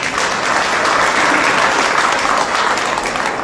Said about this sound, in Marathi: जरा टाळ्या वाजवा स्वतःसाठी